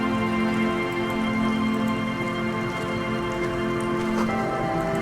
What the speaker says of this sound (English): Rain on the beach.